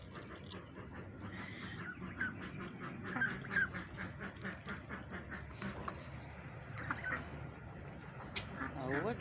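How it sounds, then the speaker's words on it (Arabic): Ducks feeding among domestic fowl in the morning, with scattered quacks and honks over a busy bed of pecking and dabbling noise, and a voice talking throughout. "شوف البط عمال ياكل في الربه ازاي"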